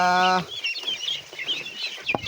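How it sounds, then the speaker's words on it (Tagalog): Domestic ducks gather at feeding time. One loud, near call opens, followed by a busy, low chatter of soft calls and scuffling that lasts about two seconds. "Pakain natin alagang itik mga musibi."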